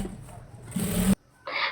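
A sewing machine runs in a short, close burst while stitching a saree border, stops abruptly, then whirs again briefly.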